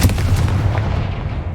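A Confringo fire spell blast from the Hogwarts Legacy video game: a loud, booming burst with a deep rumbling low end that rolls on steadily for over a second before tapering slightly.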